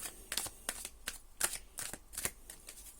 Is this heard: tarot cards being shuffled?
yes